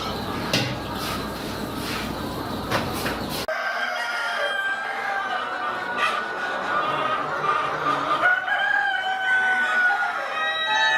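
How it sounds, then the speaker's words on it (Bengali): Sonali Classic hens and roosters on a farm, with busy clucking and several crows, close and loud; a sudden cut leaves a quieter stretch of chatter and high calls, with faint voices underneath. "আমরা অনেকগুলো মোরগ মুরগি একসাথে দেখতে পাচ্ছি এগুলো কোন জাতের মুরগি হবে এইগুলো হচ্ছে সোনালী ক্লাসিক"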